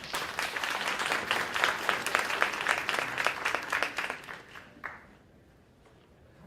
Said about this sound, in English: Give another round of applause for Dr. Davis for joining us this evening.